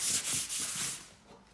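A red Scotch-type prep pad rubs firmly over a leather surface in a few quick, close scrubbing strokes that fade out after about a second.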